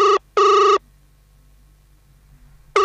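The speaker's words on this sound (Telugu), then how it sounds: "ఇందులో రింగ్ అవుతుంది." A mobile phone rings with two short electronic trills in quick succession, then a pause over faint low hum before the ring starts again at the end.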